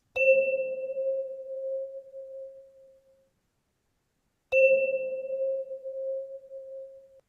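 Two sustained synthesized tones sounded together in music software to form a microtonal dissonance, a clean beating pitch struck twice with a pause between, each note fading slowly, no talk.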